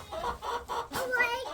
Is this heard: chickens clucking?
yes